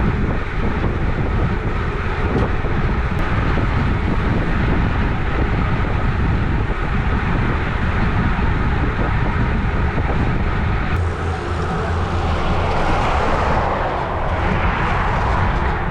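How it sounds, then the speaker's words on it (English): Strong wind roars across the microphone during a club road bike ride, a loud, continuous broad rush with no letup, and no one speaking. "It was at this point the wind started to pick up, as you can probably hear in the footage."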